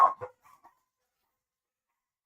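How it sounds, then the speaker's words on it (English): A dog gives two or three short, close barks in quick succession, then falls silent. "Peach, you can't bark"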